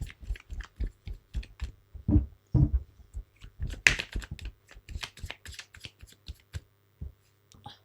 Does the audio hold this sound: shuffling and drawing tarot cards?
yes